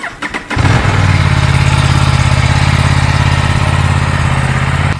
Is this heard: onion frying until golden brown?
no